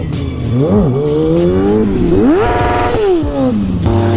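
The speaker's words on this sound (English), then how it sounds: "Oh, you want to hear my limiter?" A 675 motorcycle engine screams loudly near by, revving up and bouncing against the rev limiter in rapid stuttering pulses, pitch rising and dropping repeatedly in an aggressive, continuous blare.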